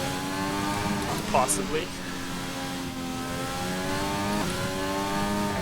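A Formula 1 car engine screams through gear changes on a qualifying lap in the video game F1 2020, the whine rising and dropping repeatedly while someone talks over it.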